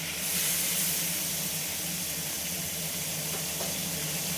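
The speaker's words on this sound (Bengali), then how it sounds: "এই তেলের মধ্যে পেঁয়াজটা আমি ভালো করে ভেজে নেব।" Chopped onion frying in hot oil in a home kitchen makes a steady, fairly quiet hiss and sizzle that holds on without a break.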